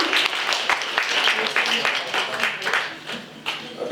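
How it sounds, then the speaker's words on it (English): An audience at a suicide awareness training event breaks into applause, a dense wash of clapping that swells and thins over several seconds. "You can just give him a round of applause."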